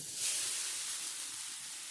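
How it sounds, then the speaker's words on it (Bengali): Grated coconut just tipped into a hot wok gives off a steady, close sizzling hiss that runs the whole time at an even level, with no voices. "তো আমি নারকেল কুড়াগুলো ঢেলে দিলাম"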